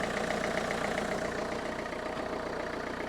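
A Renault Kangoo 1.5-litre diesel van engine idles steadily with a constant low rumble and faint mechanical clatter, no voices.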